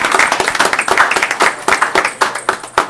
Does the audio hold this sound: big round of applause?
yes